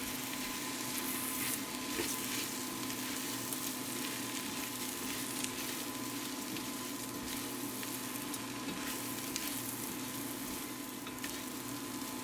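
Seasonings get stirred into a pot of vegan cabbage roll soup made with Impossible meat, a steady sizzle and soft scraping running continuously without any talk.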